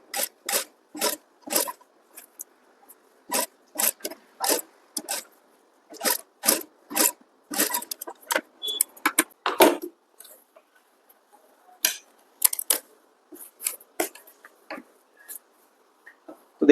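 A sewing machine stitches a princess cut blouse in short, quick bursts of rapid, whirring stitching separated by brief silent pauses, close and fairly loud.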